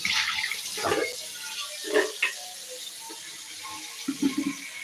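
Tap water running over raw chicken being washed in a kitchen sink, a soft steady flow broken by several splashy bursts as the pieces are rinsed, fairly quiet and close with no talking.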